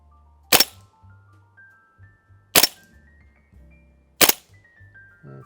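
A G&G gas airsoft gun fires three sharp, loud shots about two seconds apart, each a crisp crack with a brief gas hiss, and a faint low hum in between.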